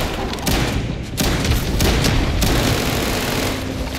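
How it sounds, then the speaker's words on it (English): A shotgun fires in the sci-fi video game Starfield: loud, booming blasts in quick succession, merging into a dense, continuous roar of gunfire. "Maybe it is time to bust out the shotgun."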